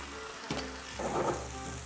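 Sake poured into a hot pan of cabbage and sausages, raising a brief burst of close sizzling over steady frying, with no talk.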